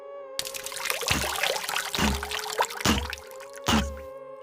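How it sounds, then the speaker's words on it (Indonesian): Large air bubbles bursting one after another on a water surface beneath a house, four deep gulping pops at a slow uneven rhythm over a trickling liquid bed, heard up close with no voices, as a horror sound effect. "terdengar suara gelembung udara besar pecah di permukaan."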